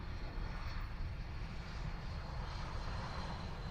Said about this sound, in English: The Colleen Barrett retro livery